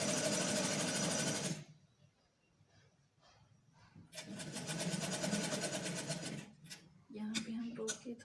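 Sewing machine stitching a kurti neckline runs in loud, fast bursts, stopping and restarting with a quieter pause between runs, close up.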